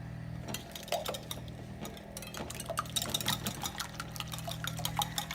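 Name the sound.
pouring heavy cream into breakfast casserole mixture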